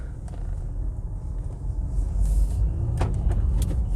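A 2016 Renault Talisman with the 1.5 dCi diesel pulling out of a parking lot, its engine a low, close rumble that swells midway, with scattered clicks and knocks from inside the cabin.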